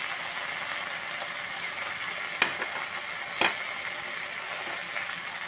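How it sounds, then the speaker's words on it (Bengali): Ginger-cumin paste and turmeric sizzle steadily in hot oil for a koi fish curry, close and even, with two brief sharp clinks of a utensil. "এর মধ্যে আদা জিরে বাটা দিয়ে দিলাম, হাফ চামচ হলুদ,"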